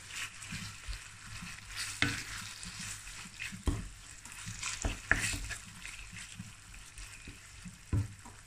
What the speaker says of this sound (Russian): Теперь я добавляю мясо. И теперь начинаем обжаривать мясо. Все хорошо перемешиваем.